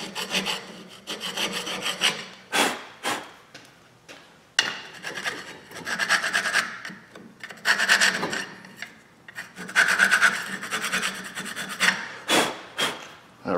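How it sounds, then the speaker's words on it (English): Scraping crud off a front brake caliper bracket on a Ram Promaster City: repeated rough, rasping strokes in irregular bursts with short pauses, close and fairly loud, no talking. "I'm gonna scrape some of the crud off that's stuck on here."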